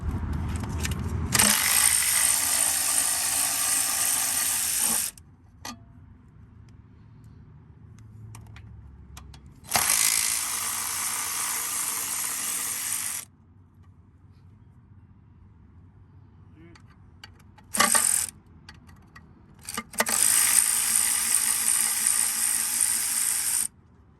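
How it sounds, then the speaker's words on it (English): Three 10mm bolts coming off the inspection plate of a Honda Civic, with several long bursts of rapid ratchet clicking separated by quiet pauses, close and fairly loud. "now we're going to go ahead and remove the 3 10 mils that are holding the inspection plate in"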